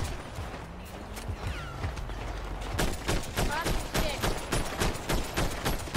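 Video game role-play shootout with bursts of automatic gunfire, first scattered then a steady rapid rhythm of loud shots, while people talk over it.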